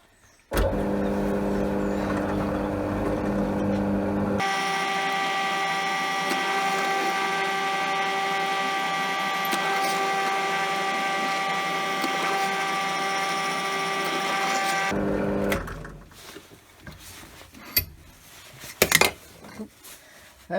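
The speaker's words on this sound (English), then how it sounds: "So now I'm going to drill the holes for these screws." Power drill boring screw holes during a motorhome water system leak repair: a steady, high motor whine runs for about ten seconds, then stops, followed by a few light clatters and knocks nearby.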